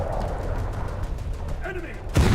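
Naval gunfire aimed at an SKR in a warship video game: a steady low engine-like rumble, then one loud, heavy gun blast near the end, with faint talk underneath.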